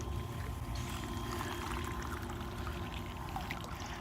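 Steady rushing of water flowing through a pump and hose in a homemade pool heater setup, a continuous broadband wash with low rumble throughout, near and unbroken.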